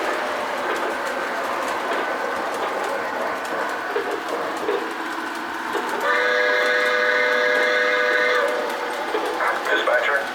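A Lionel LionChief Union Pacific Hudson model train rumbles steadily along the track with a broad mechanical hum, then a sustained whistle-like tonal sound joins in for a couple of seconds before fading.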